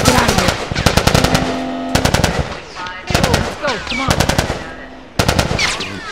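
Gunfire in The Last of Us, loud bursts of rapid automatic fire in several clusters with short gaps between them, mixed with shouting voices and game sound.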